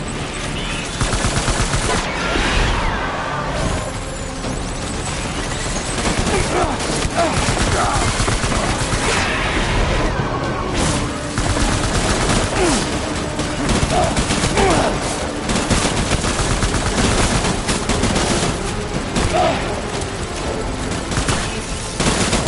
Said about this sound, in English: Light him up. Open fire.